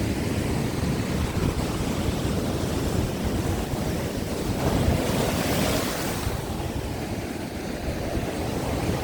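Sea waves break and wash steadily along a beach, a continuous broad roar with a slight swell midway, mixed with wind buffeting the microphone.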